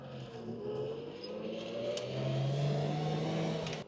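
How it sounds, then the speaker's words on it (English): A Lamborghini LM002 truck engine accelerates through a residential neighborhood, a steady rising drone that climbs in pitch and loudness over several seconds, heard from inside the vehicle with no talking. "Nothing like taking your Lamborghini truck through residential neighborhoods."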